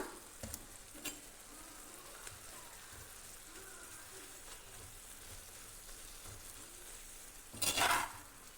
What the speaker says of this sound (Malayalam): എല്ലാം കൂടെ നന്നായി മിക്സ് ചെയ്യാം.